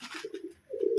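Baby pigeons give soft, brief coos close by, two quiet low murmurs separated by a short pause.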